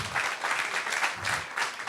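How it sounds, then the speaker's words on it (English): An audience applauds steadily at a regulatory seminar on SEC and IRS rules, clapping loud and close in rolling waves with no voices over it. "could I please have a round of applause for our esteemed colleagues, the lawyers?"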